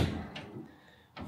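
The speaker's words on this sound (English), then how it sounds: "some very squeaky doors" Hotel wardrobe doors bump and rattle as they are opened and closed, a couple of short nearby knocks and scrapes with a faint creak between them.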